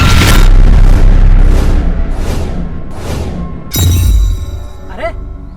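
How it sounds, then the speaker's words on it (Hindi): Loud repeated booming bursts of gunfire in a gang shootout, several heavy blasts in quick succession followed by a sharper crack and ringing tail, with no clear talk over them. "यहाँ गोलियां गिनी नहीं जाती, यहाँ निशाने नहीं लगाए जाते, बस फायरिंग की जाती है"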